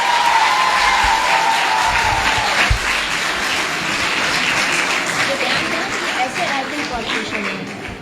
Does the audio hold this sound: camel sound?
no